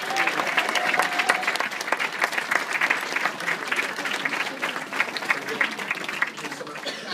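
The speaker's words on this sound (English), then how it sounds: "Please, a big round of applause for Gary," Sustained audience applause at a food, drink and lifestyle festival in Chester, even and full for several seconds, with a voice faintly underneath.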